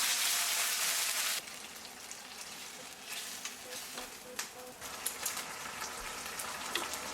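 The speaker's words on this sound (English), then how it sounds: "so your water's boiling" A loud rushing hiss for about a second, then a softer steady bubbling with small pops and ticks, like a pot of water for pasta at a rolling boil close by.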